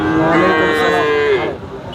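Cattle mooing at the Bogura Dhap cattle market, where heifers are traded. A single loud, drawn-out moo lasts over a second and rises above the steady crowd noise of the market.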